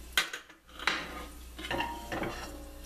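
A metal lid clatters onto an omelet pan of egg whites, broccoli, zucchini and cheddar over a low flame, giving a couple of sharp close clanks followed by softer rattling and a faint sizzle underneath.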